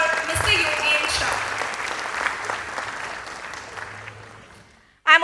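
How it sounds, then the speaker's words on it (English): Applause for the guest of honor at a school's annual day event, a dense burst of clapping from the audience that fades gradually over several seconds before a voice briefly cuts in at the end. "A huge round of applause for Mr. Yogen Shah."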